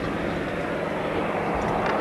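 A jet trainer taxis at a 1984 airshow, its engine a steady, broad roar with continuous outdoor noise and no pauses.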